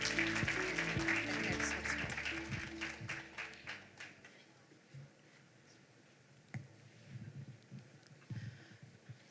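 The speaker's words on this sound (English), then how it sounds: "Let's give her a round of applause." An audience at a world summit session applauds to welcome a moderator, a dense round of clapping that is loud at first, then thins to scattered claps and fades out.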